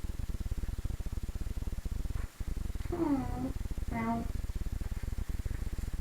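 A house cat named Tiisu purrs close up in a steady, rapid rhythm, with two short voiced sounds rising above the purr partway through.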